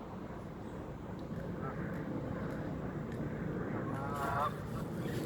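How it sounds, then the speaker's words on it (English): Geese honk in the open on a quiet morning, faint and fairly distant, with a short cluster of honks near the end over steady background hiss. "Every damn morning they be here with that honk"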